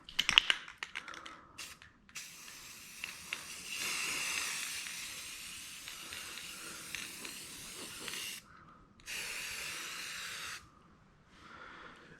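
Spray paint hisses onto a homemade coot decoy in several separate bursts of steady airy spray, with short pauses and small clicks and handling noises between them.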